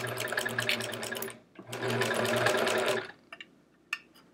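A sewing machine stitches a quilt label in two close, steady runs of rapid mechanical whirring separated by a short pause, followed by a few light clicks.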